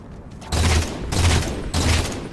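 Gunfire in the video game Halo 4, three bursts of rapid shots in quick succession, loud and close, each lasting about half a second.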